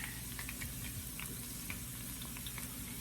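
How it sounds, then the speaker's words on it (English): Bacon cream cheese rangoons deep-frying in oil, a dense, steady sizzle with faint bubbling pops and a low hum underneath, close and constant over a few seconds with no speech. "And these fry up super fast."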